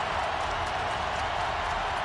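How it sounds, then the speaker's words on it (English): Football stadium crowd at a 2004 Tennessee versus Kentucky college game, a broad steady roar of many distant voices blending into continuous noise with no distinct cheers or talk standing out. "the crowd making some noise"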